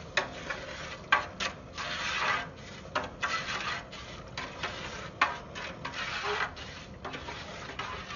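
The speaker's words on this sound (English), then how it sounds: "We're going to stir that up." Faint scraping and rubbing strokes of a utensil stirring a white sugar mixture for bear bait, repeated in an uneven rhythm at close range.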